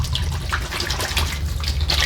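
Head lettuce shaken underwater in a wash tub while being rinsed for market, giving a steady close sloshing and splashing of water throughout, with no talking.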